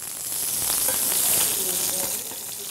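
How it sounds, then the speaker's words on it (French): A veal burger patty frying in olive oil without butter, giving a steady close sizzle and crackle that swells briefly and then holds. "on va faire la cuisson de notre burger, de notre steak de veau"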